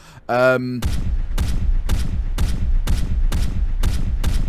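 A Mark III bolter fires in the Warhammer 40,000 game Eternal Crusade: after a short tonal cue, about eight loud, heavy shots ring out at an even, rapid cadence, each ending in a booming tail.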